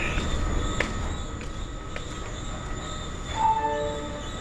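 A Dallas DART Blue Line light rail train rolls into a station with a steady rumble, a brief metallic screech near the end, and a soft tonal chime.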